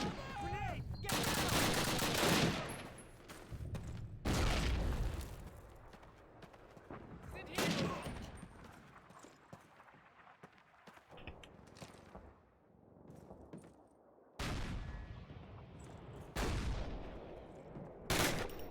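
Gunfire and machine guns crack in a video game battle during a veteran-difficulty campaign, with loud bursts separated by quieter stretches and voices shouting over the fight.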